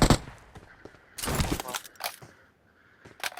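Enemy gunfire in the PUBG Mobile battle game comes in several sharp bursts, loud at the start and again in the middle, with quieter gaps and a faint trailing shot at the end.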